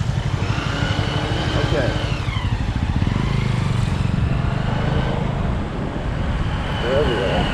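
Motorcycle engine pulling away in first gear through Kathmandu traffic, a close, rough rumble rising in pitch while someone talks over it and surrounding road noise fills the background.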